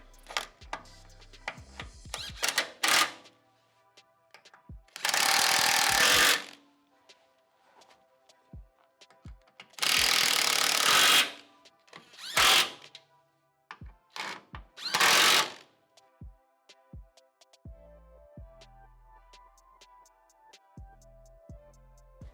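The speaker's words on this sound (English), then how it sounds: "now we're gonna go ahead and snug up all of the body bolts" Power tools snug up body bolts on a Rivian R1T during a rock slider and aero armor install, with several loud sustained bursts of whirring and impacting between quiet pauses and small clanks of parts and handling.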